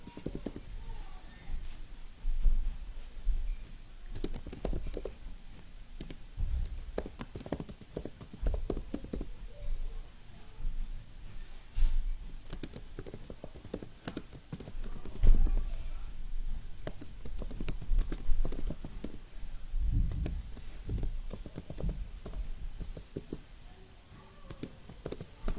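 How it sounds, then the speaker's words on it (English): Keystrokes and mouse clicks on a computer keyboard while entering data into a database table, arriving in irregular bursts of close, light tapping with short pauses between them, moderately loud and without talk. "So we're going to click here and we're going to type that in."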